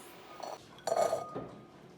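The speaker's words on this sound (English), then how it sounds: "I want to put a cup of the walnuts." A cup of walnuts tips into a dish with a brief rattling clatter of nuts against the bowl, close and clear, preceded by a lighter knock.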